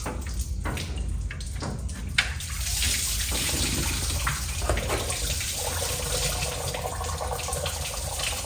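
Water drains out of a 1972 Chevrolet Nova engine onto a garage floor with no drain pan, a steady close splashing gush that runs continuously over faint clatter.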